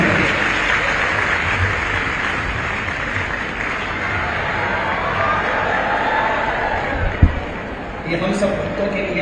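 A large devotional crowd in Ujjain gives loud, sustained applause welcoming the chief minister at a religious event, a dense continuous roar of clapping that dips briefly near the end.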